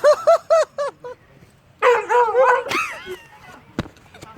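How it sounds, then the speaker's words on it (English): A frightened dog whimpers at a feather, giving a run of high, wavering whines and yips in short bursts, close and fairly loud, with a sharp click near the end. "Idiot dog afraid of feather."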